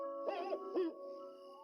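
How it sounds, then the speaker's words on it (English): An owl gives a short, soft hooting call of two close notes in quiet surroundings, with a faint steady tone lingering afterward. ""Who?" asked the owl."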